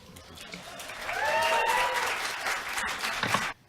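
Supporters at a gubernatorial debate break into applause that swells and holds for a few seconds before stopping abruptly, with faint voices mixed in.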